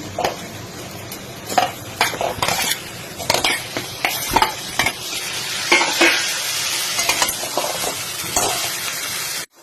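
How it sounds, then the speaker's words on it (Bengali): Chicken pieces frying in oily spice masala give a loud, close sizzle, broken by repeated scrapes and clatters of a spatula stirring against the pan, and the sizzle swells steadily toward the end. "মশলার তেলটা ছেড়ে গেছে, এবার আমি চিকেনগুলো দিয়ে দিচ্ছি।"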